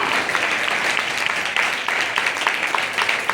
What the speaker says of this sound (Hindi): तालियां बजा के स्वागत कीजिए, मैं जल्दी आने वाला हाँ।